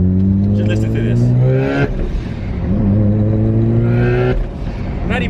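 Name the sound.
sports car accelerating, engine hitting boost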